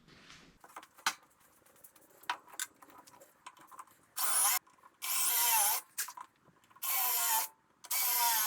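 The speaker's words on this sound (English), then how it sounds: "So now I think I'm going to put some screws in there." Power drill drives screws into scrap lumber while a step stool is built, with several sustained loud bursts of whirring separated by pauses, after earlier light knocks and handling noises.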